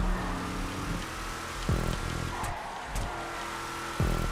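A trophy truck engine revs hard in GTA 5 racing on a rallycross-style track, climbing and dropping through several gear changes with brief tire squeal, loud and close throughout.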